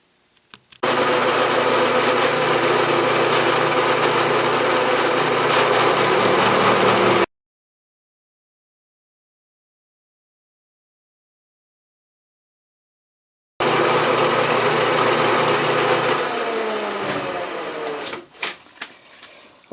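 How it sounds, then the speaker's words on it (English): A Bridgeport milling machine squaring the end of a 3/4 inch cold roll steel bar runs loud and steady for several seconds, falls silent, then cuts again before winding down. "So I'm going to mill it off square."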